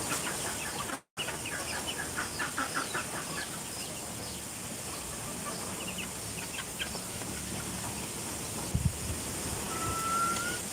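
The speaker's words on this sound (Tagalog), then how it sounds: "Ayan ang mga anak ng pato namin na hiniwalay na po namin." Young ducklings that have been separated from the adults peep in quick repeated bursts, close by and steady against a constant outdoor background hiss.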